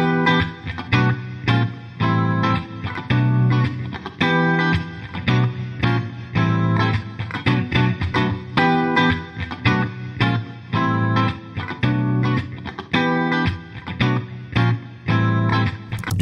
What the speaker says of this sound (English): Smart Reverb took the characteristics of the input signal and created a reverb that fits your audio track perfectly.